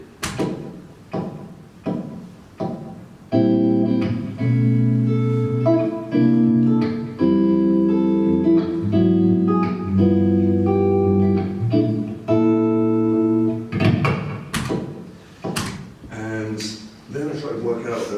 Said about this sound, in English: So I invented a silly chord progression